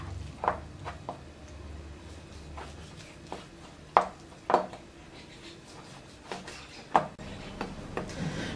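A knife chops beef ribs on a cutting board: a dozen or so sharp, irregular knocks at close range, some louder than others, over a faint background hum.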